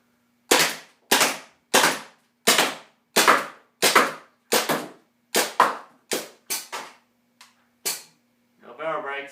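An M17 airsoft pistol fires brittle balls in a run of about fourteen sharp, snappy shots at an uneven pace, close and loud, with a brief voice at the end.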